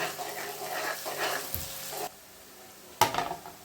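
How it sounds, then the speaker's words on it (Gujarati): Green garlic, onion and grated green turmeric sizzle and fry in a pan, a steady close hiss with stirring scrapes that cuts off briefly before a sharp burst of frying resumes. "હવે એને આપણે બરાબર સાંતળી લઈએ"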